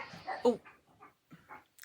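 Several dogs or puppies give short yips and whimpering barks at close range in a few scattered bursts, with quieter gaps between them.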